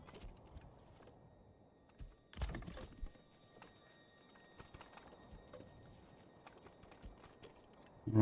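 Horse hooves clip-clop faintly in the medieval city-building game Manor Lords, a soft irregular patter under quiet game ambience with a brief louder rustle in the middle.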